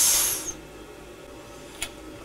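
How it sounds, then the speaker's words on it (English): Gas pressure vents from a beer keg being cleaned, a sharp hiss that fades over about half a second, followed later by one brief second burst. "Let the pressure out."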